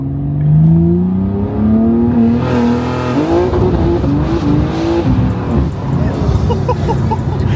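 A tuned rear-wheel-drive BMW G80 M3 Competition revs hard and climbs through gears, its anti-lag exhaust crackling and popping loudly between rising pitches, close by.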